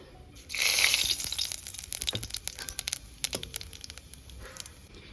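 A sudden burst of crackling sizzle as cumin seeds hit hot oil left from frying fish, settling into rapid irregular pops and spits nearby.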